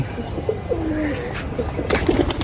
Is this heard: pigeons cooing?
yes